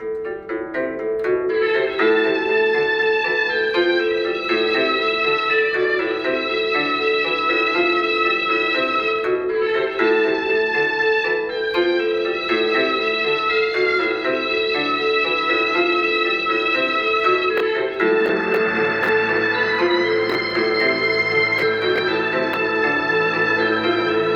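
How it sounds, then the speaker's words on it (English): A bright plucked guzheng melody rings over a repeating ostinato of sustained tones, continuous and full throughout, with a shift in texture near the end. "The melody sounds like this, alongside the ostinato and the guzheng."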